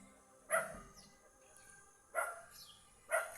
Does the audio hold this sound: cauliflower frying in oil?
no